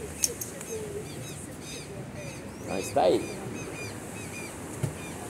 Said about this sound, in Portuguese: Pássaro cantando.